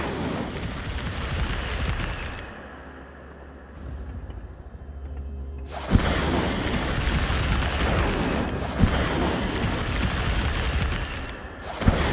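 An Incendio fire spell cast in Hogwarts Legacy, a whooshing, roaring burst of flame that drops away into a low rumble before further loud bursts erupt, with sharp cracks punctuating the fiery noise.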